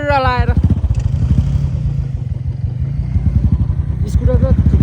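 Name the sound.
motorcycle riding on mountain road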